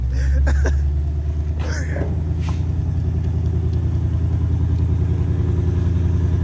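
A Ford Mustang with an aftermarket AliExpress valved exhaust idles with a steady, muffled low rumble close by, quieter than stock, while a few brief voice sounds come early over the engine.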